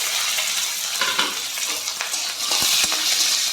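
Green chillies stir-fried in oil for a kochu shak dish with hilsa fish head, a loud close crackle and sizzle broken by a few sharp spatula knocks against the pan, with no talking.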